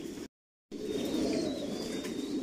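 Racing pigeons in cages at a large pigeon farm loft, wings flapping in soft, fluttering bursts with faint coos, heard fairly quietly after a brief dropout.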